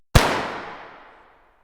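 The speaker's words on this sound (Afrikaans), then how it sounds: "En toe 'n skoot in die nag." A single sharp gunshot rings out in the night, a loud sudden crack followed by a long fading echo that trails away over about a second.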